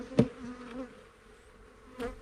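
Honey bees buzz around an open hive, the faint insect drone rising in two brief louder passes near the start and end over a quiet background.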